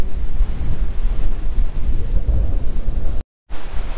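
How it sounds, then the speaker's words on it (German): Loud, continuous roar of surf surging and breaking against rocks nearby on an island shore, with wind buffeting the microphone and a short dropout near the end. "Mir schlagen die Wellen gegen die Steine"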